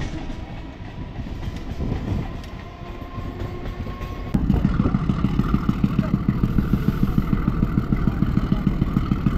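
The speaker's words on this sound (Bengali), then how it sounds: "এই মুহূর্তে আমাদের ট্রেন এসে পৌঁছেছে বাগবাজার স্টেশনে।" A Krishnanagar City–Sealdah local train pulls into Bagbazar station in Kolkata, a steady rumble of the carriages building up as rhythmic clickety-clack of the wheels takes over, loud and close, with faint voices in the background.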